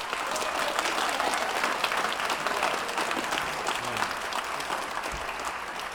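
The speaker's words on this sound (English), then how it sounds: "could we just give ourselves a round of applause?" Audience at a school spring band concert applauding, a dense, sustained wash of clapping hands from a large crowd that holds at steady loudness for the whole stretch, with a few faint voices mixed in.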